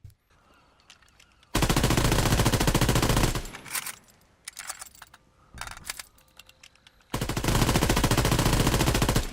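M1941 Johnson rifle in the Call of Duty WWII video game fires in rapid bursts, loud dense volleys of shots separated by quieter gaps with reloading clicks and clatter.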